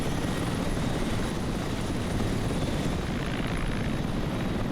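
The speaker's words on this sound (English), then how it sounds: "they have all the team loaded into one Mi-24. They're having the other one take off first" A Mi-24 helicopter in a video game takes off with a steady, heavy rotor drone and engine roar, loud and continuous with no talk.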